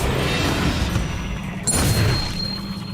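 A Confringo spell blast from the Hogwarts Legacy video game, heard as a dense, loud booming roar that swells and keeps rumbling for the whole moment, with a brief bright zing near the middle.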